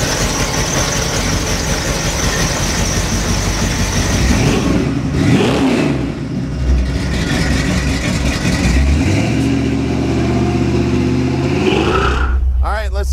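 A 1948 Ford pickup with a supercharged blower engine idles loudly with a deep rumble. The engine revs up and down several times, with short rising and falling swells, heard close by.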